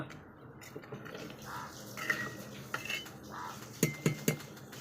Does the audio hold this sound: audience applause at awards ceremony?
no